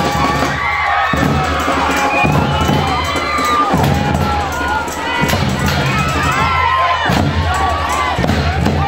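Crowd cheering and shouting with sustained applause for a show band from Ji-Paraná at a Children's Day event, loud and continuous throughout, with scattered high shouts and whistles rising above the din.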